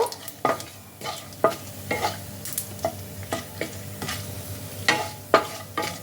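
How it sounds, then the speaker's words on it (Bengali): Cardamom, cloves and cinnamon stirred in hot oil for a flower-cauliflower dalna: a soft sizzle under sharp, spaced scrapes and clacks of a spoon against the pan, close and repeated every second or so. "ফোড়নগুলোকে কয়েক সেকেন্ড তেলের মধ্যে ভালো করে নাড়াচাড়া করে নেব"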